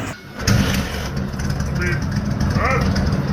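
A Kawasaki KZ1000 motorcycle, started by hand, fires up after a brief quiet moment and settles into a loud, steady running rumble with a voice over it.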